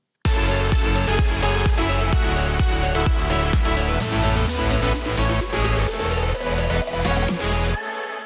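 A full electronic dance track pounds along with a steady four-on-the-floor kick, dense synths and a rising sweep building through the middle, loud and continuous.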